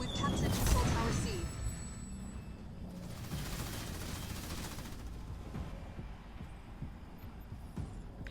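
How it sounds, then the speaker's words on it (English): Gunfire from ground troops in the Halo Wars 2 campaign rattles as steady rapid bursts under game noise and a low throbbing hum, moderately loud, with voices talking over it. "Receiving fire from ground troops"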